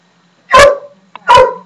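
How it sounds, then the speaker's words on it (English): A dog barks twice, loud and close, with a short gap between the two sharp barks and near silence around them. "I'm not even going to talk until you shut that dog up"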